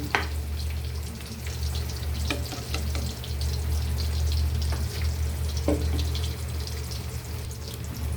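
Egg sizzles in a pan with bitter melon and tomato, making a steady, close frying hiss that runs the whole time, with a few scrapes and clicks from the utensil breaking through.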